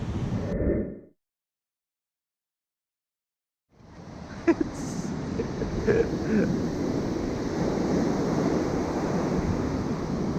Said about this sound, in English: Take a picture of big waves.